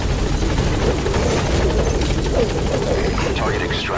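A Metal Gear Solid V helicopter holds a constant loud rotor thump and engine drone throughout. Faint speech and game sounds come through underneath it.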